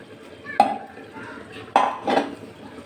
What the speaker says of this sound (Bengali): এবার আমি এই মাছটা যে মেখে রেখেছি এটা আমি এতে দিয়ে দিচ্ছি